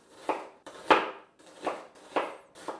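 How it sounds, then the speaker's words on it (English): Knife chopping through an onion on a cutting board, five distinct chops in a loose, unhurried rhythm, close and fairly quiet with no talk. "Dice one onion."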